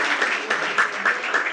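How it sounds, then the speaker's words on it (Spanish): A church congregation applauds during a Spanish-language sermon, a short burst of dense, close clapping with slight rhythmic pulses, loud and filling the whole moment. "hermana Jacqueline fue obediente. Gloria a Dios, un aplauso para ella."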